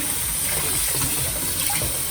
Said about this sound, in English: Now I'm going to add some more water.